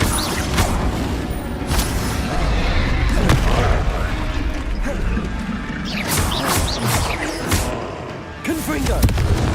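Repeated Confringo curse blasts alternating with shielding during a Hogwarts Legacy magic duel, several loud crashing booms spread through a noisy fight, with a voice shouting over the action.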